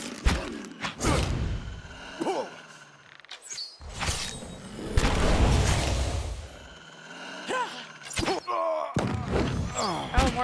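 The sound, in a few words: explosions in a video game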